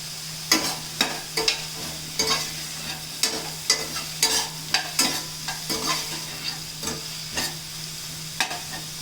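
Ginger and garlic sizzle in a pan while a spoon scrapes and stirs in quick, uneven strokes, with a steady low hiss of frying beneath the clatter.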